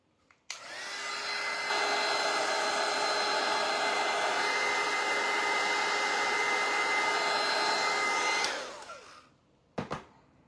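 A hair dryer blows steadily for about eight seconds, drying lemon yellow paint on a wooden scoop, then winds down as it is switched off, followed by a couple of faint clicks.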